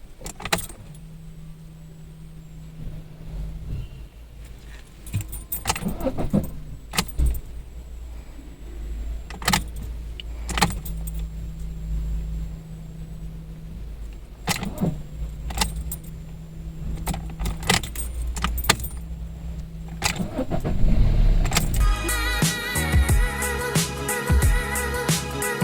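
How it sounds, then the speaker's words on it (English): A customer's recording of a 1.3 Multijet car engine that is hard to start: repeated short cranking bursts separated by pauses and jangling keys, ending in a rougher, louder stretch of engine noise. "15 minutes after the car is stopped, the car is very difficult to start again"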